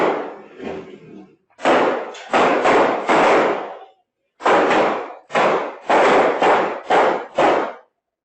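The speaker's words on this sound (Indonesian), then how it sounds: "Video CCTV ini merekam jelas suara baku tembak antara tim TKP 308 Polres Lampung Utara dengan komplotan pelaku curanmor" Gunfire between police and motorcycle thieves caught on a CCTV camera: a sharp run of loud, evenly spaced bangs in two bursts, separated by a brief pause.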